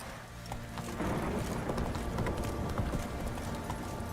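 Horse hooves clip-clop at a steady trot in The Witcher video game, a continuous rhythmic patter over a windy ambient bed, with no speech.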